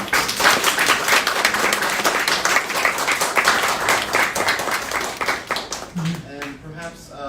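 A crowd at a salon talk applauds with steady, dense clapping that fades out near the end as voices start talking.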